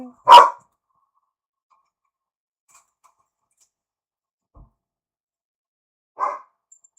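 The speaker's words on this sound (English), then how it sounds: "My dog runs around the house barking today." A dog barking indoors at home, two short loud single barks several seconds apart with near silence between them.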